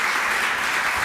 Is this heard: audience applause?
yes